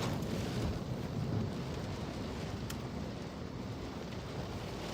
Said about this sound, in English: All right, we just heard some thunder.